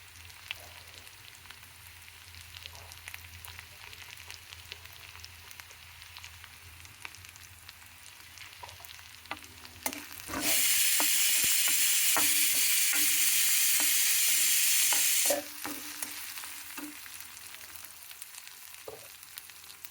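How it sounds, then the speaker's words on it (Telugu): Grated radish hits a hot pan with turmeric and bursts into a loud, steady sizzle lasting about five seconds, then cuts back to quiet kitchen clatter and light clicks. "ఇది ముల్లంగి ఇది వేగాలి."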